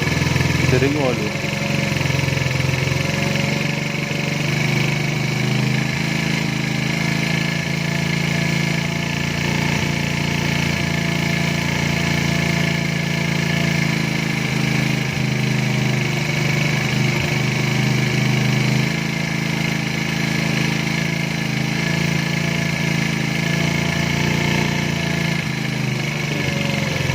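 Small 110cc motorcycle engine idling during carburetor adjustment, a steady close, loud drone that holds even throughout with only a slight shift in tone late on.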